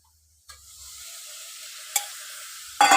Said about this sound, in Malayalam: ഇനി എടുത്ത് വെച്ചിരിക്കുന്ന ഇറച്ചി ഇട്ട് ഒന്ന് നല്ലപോലെ ഒന്ന് വഴറ്റിയെടുക്കാം.